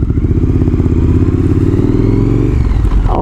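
Custom Triumph Thruxton R street tracker motorcycle being ridden, a loud, close, throbbing engine with a rapid pulsing beat and road rumble, steady throughout and easing slightly at the end, no voices.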